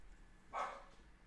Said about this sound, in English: Apologies if you can hear Berta barking her lungs out